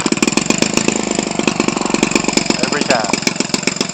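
A green Homelite 25cc two-stroke small engine runs steadily and close by, a loud buzzing drone with rapid regular firing pulses and a slight surge near the end.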